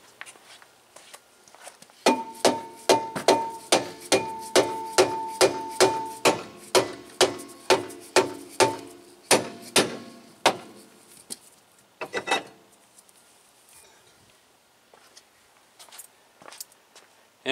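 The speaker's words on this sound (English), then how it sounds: "And you're just going to tap that brake drum." A steady series of sharp metallic knocks, about a dozen evenly spaced dead blow hammer blows on a 1999 Honda Civic rear brake drum ringing close by, then a pause and a couple of fainter taps.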